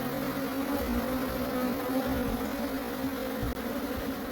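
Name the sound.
bees buzzing at a hive during blueberry pollination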